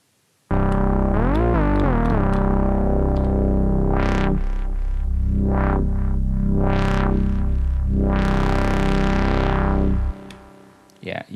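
Elektron Digitone synth playing a Moog-style bass lead with delay and reverb, a loud sustained distorted line with sweeping filter swells and echoing tails, alone without talk.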